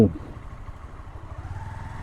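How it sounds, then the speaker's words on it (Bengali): A motorcycle engine rumbles low and steady at Bichanakandi, moderately quiet and slightly pulsing, with faint voices in the background. "ভালো মোটর সাইকেল আছে"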